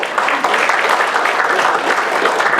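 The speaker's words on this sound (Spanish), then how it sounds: "Un aplauso a este grupo, por favor." Sustained, dense applause from an audience of teachers at a workshop, loud and steady clapping throughout with no pauses.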